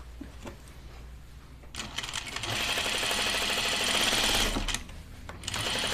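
A sewing machine runs a steady, close, rhythmic whirring stitch along a knit Moneta dress seam, starting after a quiet lead-in, holding for about three seconds, then stopping and briefly restarting.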